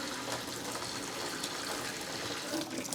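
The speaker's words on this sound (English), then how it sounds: "Now I'm just going to fill this sink with cold water" Cold tap water runs steadily into a kitchen sink, a continuous broadband rush that holds at an even level for about three seconds with no talk over it.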